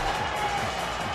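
Baseball stadium crowd cheering at a major league game, a steady roar of many voices rising from a packed ballpark, with a commentator's voice faintly present.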